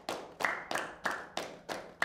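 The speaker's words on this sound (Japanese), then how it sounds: "手拍子のリズムはゆっくりと始まり、スピードを上げ、" Hand claps in a steady rhythm, seven sharp claps at roughly even spacing that shorten slightly toward the end, fairly close with a ringing room tail after each.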